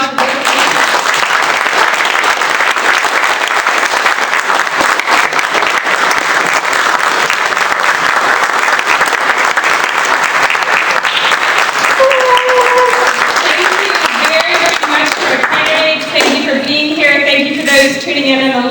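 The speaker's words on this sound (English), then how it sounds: "Let's have a round of applause for this." Loud, sustained audience applause at an Indiana 2nd District congressional debate, dense clapping from a sizable crowd lasting many seconds, with some voices and cheers mixed in as it continues.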